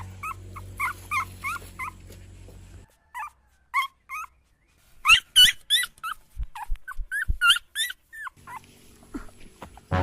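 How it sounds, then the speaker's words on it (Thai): A stray puppy, found abandoned outdoors, whimpers and yips in thin, high cries, some in quick runs and others spaced apart, with soft thumps and background noise in between. "เสียงลูกหมาร้องนี่นะเฮ้ยยังมาจากฝั่งนี้นะ"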